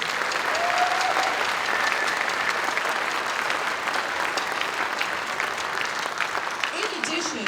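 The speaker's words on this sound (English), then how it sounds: "Please give them another round of applause." Audience applause at a school winter ensemble concert, a steady, dense wash of clapping from a large crowd held throughout at even loudness.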